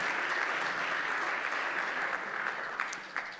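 An audience at a noontime Jazz Fest event in Sioux Falls applauds the judges, a sustained, moderately loud patter of many hands clapping that thins slightly toward the end, with a few sharper claps standing out.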